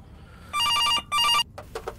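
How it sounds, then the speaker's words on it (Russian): A telephone bell rings in two sharp bursts, loud and close, in an apartment setting, followed by a few faint clicks and soft knocks. "А, это не домофон, это телефон."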